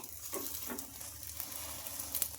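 Rumali paratha fries in oil on a hot pan, giving a steady, soft sizzle close by with a few light scrapes and pats from the cook, and no voices.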